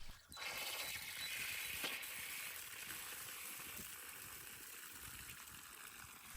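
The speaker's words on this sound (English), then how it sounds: "turn on a faucet to drain any remaining water from the system" Water running out of an opened faucet while a plumbing system drains before a backflow preventer is replaced, a steady soft rushing and trickling hiss that carries on evenly throughout with no talking.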